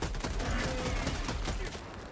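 A rapid burst of automatic gunfire from a video game weapon rattles continuously and loudly, then stops abruptly as the magazine runs dry, leaving a brief tail of quieter sound.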